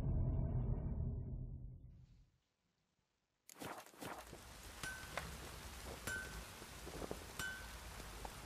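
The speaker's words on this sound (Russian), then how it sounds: "Это планетники нам дождь посылают." Rain falling in the video game The Witcher 3: Wild Hunt, a steady patter with scattered clinks and drops, heard alone after a louder stretch of other game sound and a brief silence.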